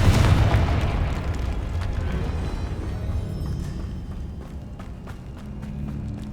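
A Confringo fire spell explodes in the Hogwarts Legacy video game, giving a loud, deep booming burst followed by a long rumbling roar that slowly fades, with faint crackles scattered on top and no speech.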